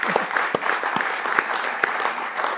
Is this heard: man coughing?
no